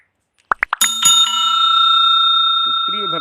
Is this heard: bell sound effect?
yes